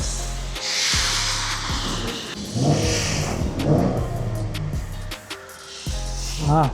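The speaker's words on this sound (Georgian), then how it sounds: "მანქანა დავქოქეთ, თავარი მისია შესრულებულია. ძრავი ნორმალურად მუშაობს" A Chevrolet Camaro engine cranks, catches and settles into a running idle, with a few revs and uneven pulses, heard up close alongside hissing and handling noises.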